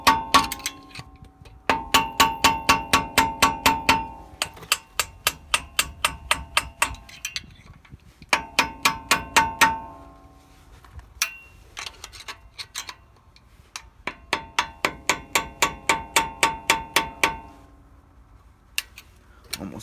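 Rapid metallic ratcheting clicks in bursts of a dozen or so, pausing between runs, as a tool works the tight wheel dust cap on a 2017 Ford F-150 during a lift and leveling kit install.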